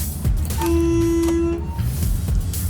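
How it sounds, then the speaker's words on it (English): A single sustained RV air horn blast, weak, fairly thin and nasal in tone, sounds for about a second over a low rumbling engine. "I'll let you hear this horn."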